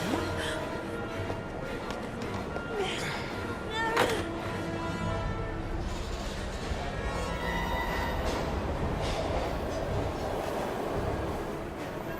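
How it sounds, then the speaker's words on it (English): A video game train rumbles along steadily with a dense clattering roar, and brief voices can be heard over it. "We've gotta get on that train, Ethan."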